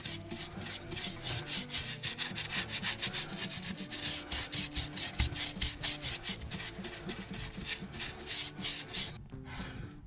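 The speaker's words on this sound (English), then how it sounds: "Just brush the rust converter on." A brush scrubs rust converter onto the underbody of a Triumph TR7, a soft, rapid back-and-forth scratching in quick repeated strokes, close but fairly quiet, with no speech.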